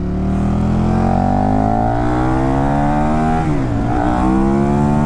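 A 2015 KTM Super Duke motorcycle accelerates hard, its engine note climbing steadily, briefly dipping at a gear change, then pulling up again, loud and close with wind rush.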